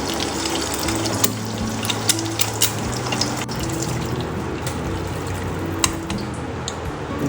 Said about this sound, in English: There goes the unwanted water.